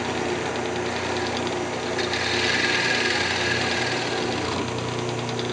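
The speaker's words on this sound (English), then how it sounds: "Use the skew chisel" A wood lathe drones loudly and steadily while a skew chisel cuts a redwood Christmas ornament, with a rougher, scraping contact sound building in the middle before easing back into the hum.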